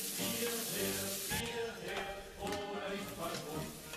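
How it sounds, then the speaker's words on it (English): Onion sauteing in rendered bacon fat makes a steady, dense sizzle, close and fairly loud, while a person talks over it. "then I add the onion and saute just basically until the onion becomes translucent"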